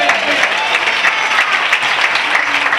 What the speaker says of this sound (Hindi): तालियां बजा सकते हैं अभी तक।